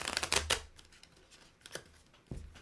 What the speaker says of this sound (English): This deck is kind of weird with the shuffling. Kind of have to feed it through.